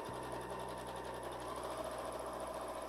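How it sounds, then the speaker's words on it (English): A Horizon Memory Craft 9480QC sewing machine stitching a free-motion zigzag, giving a steady, fast mechanical whir with a fine rhythmic patter. The sound runs continuously at a moderate level, alone with no voices. "you can just start stitching because it is in free motion"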